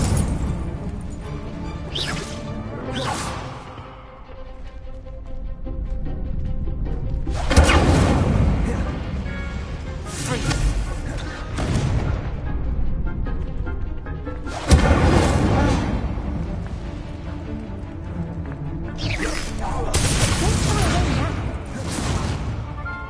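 Fiery spell blasts from Confringo and Incendio in the video game Hogwarts Legacy, several booming bursts with whooshes and crashes recurring every few seconds over a continuous game soundscape.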